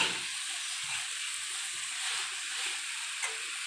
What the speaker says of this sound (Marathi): आता यात घालूया 10 मिनिटांपूर्वी भिजत घातलेली ही मुगाची डाळ। छान परतून घेऊया।